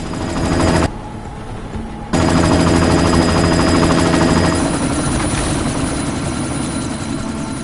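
A helicopter in the video game Deus Ex Mankind Divided roars with loud, continuous rotor thumping and engine noise, briefly muffled for about a second before returning at full strength.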